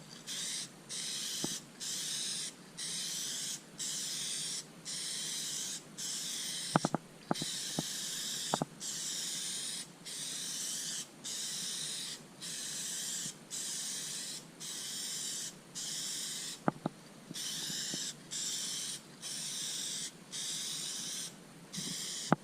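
Spray paint hisses in repeated short, light-coat bursts onto a 1979 Corvette rear interior trim panel, with brief pauses between them, close and steady, with a few faint clicks and taps.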